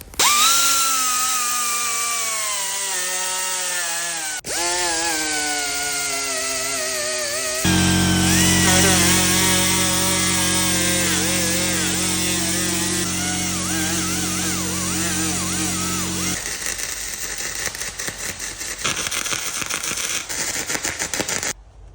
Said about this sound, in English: make metal bars right here, drill a hole through, and then bolt it like this